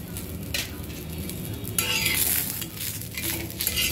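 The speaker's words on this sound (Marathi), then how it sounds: "आता आपण काय करूया, जिरं पण भाजून घेऊया।" Cumin seeds roast in a pan for a green chilli and ridge gourd thecha, giving a close, steady sizzle and rustle with light scraping and a few clinks of a utensil.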